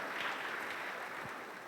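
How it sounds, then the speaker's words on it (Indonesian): Church congregation applauding during an online worship service, a soft, diffuse wash of many hands clapping at a distance, steady and fairly quiet with no talk over it. "Yang percaya berikan tepuk tangan bagi Allah kita."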